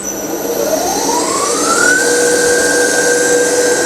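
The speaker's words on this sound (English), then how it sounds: "I'm going to fire the test bench up now" An alternator test bench spins up and runs at steady speed, a loud continuous whine rising in pitch over about two seconds, then holding as a sustained tone over broadband motor roar.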